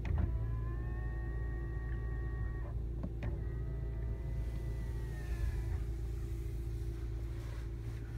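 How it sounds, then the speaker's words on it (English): Electric folding mirrors on a Mini John Cooper Works whir as they motor in, two smooth whining runs with a soft clunk between, heard close over a steady low engine idle hum. "You've also got the folding mirrors."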